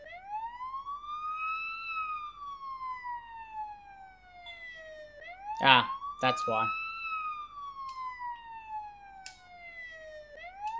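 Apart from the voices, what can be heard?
police siren in a video game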